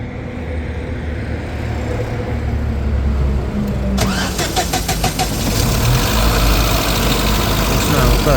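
A Chevrolet Nexia car engine cranks and catches about halfway through after a steady background hum, then settles into a continuous, even idle, recorded up close.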